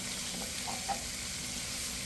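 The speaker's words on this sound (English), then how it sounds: "I'm just mixing everything up and giving it a good turn" Garlic and sesame oil frying in a pan, a dense continuous sizzle heard close up, with a few faint stirring touches and no voices.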